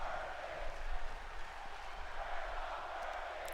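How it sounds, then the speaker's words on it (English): A wrestling event crowd keeps up a broad, steady roar of cheering and noise throughout, fairly distant and continuous, without clear individual voices or claps. "You hear this crowd?"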